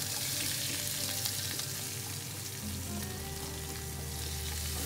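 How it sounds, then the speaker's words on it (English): Onion sautéing in a pan on a barbecue cook, a soft continuous sizzle with a low steady hum beneath, fairly quiet and even throughout. "onion sauteing."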